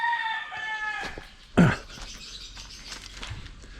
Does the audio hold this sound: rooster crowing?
yes